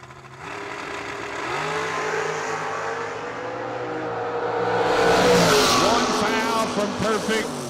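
A Chevrolet Cobalt and a Camaro race down a drag strip, their engines roaring and rising in pitch as they accelerate, swelling louder midway under an announcer's commentary.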